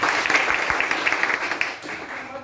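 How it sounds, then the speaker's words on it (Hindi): A seminar audience in a hall breaks into applause, a dense burst of many hands clapping that stays steady and then slowly thins toward the end. "आप लोग के लिए जोरदार ताली"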